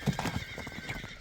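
A horse walking nearby, a short run of soft hoof clops with a brief whinny-like call, no talk.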